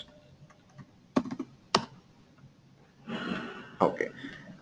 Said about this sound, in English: Now I can type the username raja@ramjan.info and the new password